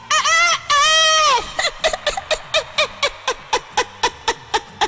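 A man imitates a rooster with his voice in a comedy mimicry skit: a loud, drawn-out crow, then a steady series of a dozen short, evenly spaced clucks.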